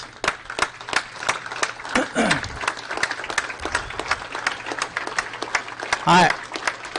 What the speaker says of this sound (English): If you please stand and give us a big round of applause